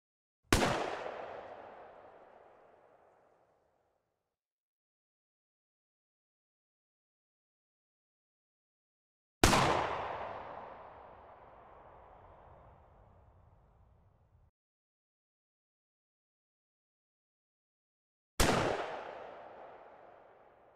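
Shotgun ambience emitters spawned in a Wwise and Unreal Engine 4 game demo fire three isolated, loud blasts several seconds apart, each with a long decaying tail into silence.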